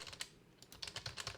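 Quiet computer keyboard typing, a rapid uneven run of soft clicks and taps close by, with a brief pause midway before the keystrokes resume.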